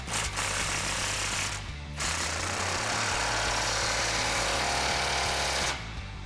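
A power tool runs loudly and continuously, hammering in bursts with brief pauses, while 15mm socket exhaust clamps are tightened on a 2015-2019 Mustang GT with a Corsa Sport cat-back exhaust.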